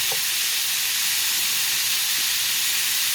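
Shrimp seasoned with Old Bay fry in a big skillet, giving a loud, continuous, steady sizzle and hiss up close with no pauses.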